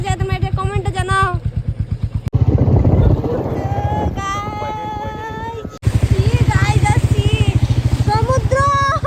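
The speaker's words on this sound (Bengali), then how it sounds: "স্পিড বোটের মতো বটবটি করছে আমার বাইকটা" A motorcycle engine sputters loudly and rhythmically, its rapid pulsing putter sounding like a speed boat, running close by with brief breaks and a voice speaking over part of it.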